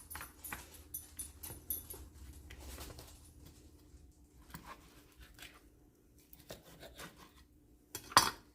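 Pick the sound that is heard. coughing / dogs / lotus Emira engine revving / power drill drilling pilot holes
dogs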